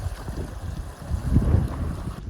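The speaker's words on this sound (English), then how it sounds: "you can definitely tell how much wind is up here. It's windy." Gusty wind on a mountain climb buffets the microphone in low rumbling bursts, steady and fairly close, with no voices.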